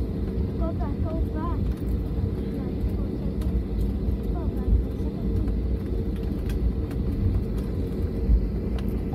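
A Frontier airliner landing at SJU International Airport in San Juan gives a steady, rumbling jet roar at moderate distance, while people talk nearby over the engine noise.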